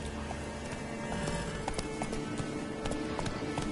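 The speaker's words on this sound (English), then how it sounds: "Whoa there, Roach." Horse hooves clip-clop steadily at a trotting pace in the video game Witcher 3, with a busy ambient game soundscape underneath.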